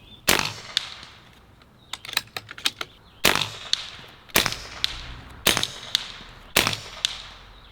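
Sharp cracking shots from a .22 caliber budget airgun, a Barra 1100z or Beeman Chief firing 21.9 grain pellets at a target, several loud isolated reports spaced a second or so apart with lighter clicks and handling between them.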